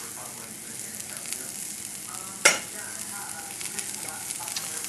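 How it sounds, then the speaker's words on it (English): Wild rice and turkey salad is mixed in a pan, with a steady soft sizzle and one sharp scrape or clack partway through. "Give it another mix."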